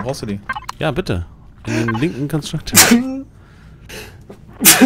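A person sneezes sharply twice amid German conversation while playing the space survival game Empyrion, the bursts short and loud, the second landing at the very end over ongoing talk.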